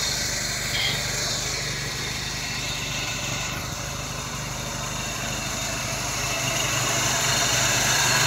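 A car engine idling with a newly installed carburetor, a steady, fairly loud drone with a buzzing vibration that holds even for several seconds and grows slightly louder toward the end, with no talk.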